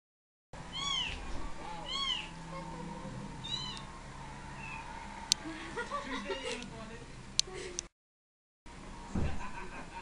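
Several thin, high meows from a young kitten, spaced across the stretch at moderate distance over steady background hum, with a couple of sharp clicks and people chatting quietly nearby.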